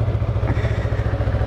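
A Yamaha MT-03 motorcycle engine runs up close with a loud, even pulsing throb, held at raised revs throughout the short stretch, with no talk over it.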